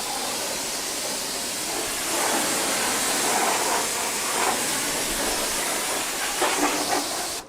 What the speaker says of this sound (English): I'd highly doubt they can hear us over the pressure washer